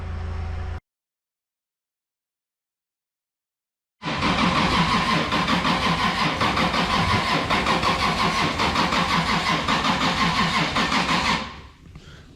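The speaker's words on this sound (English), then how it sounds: "starting to crank the engine to see if we get fuel pressure, oil pressure" After a stretch of silence, a rebuilt Toyota Supra GT300 race car engine cranks over without ignition in a fast, steady rhythmic churn for several seconds without catching, then stops.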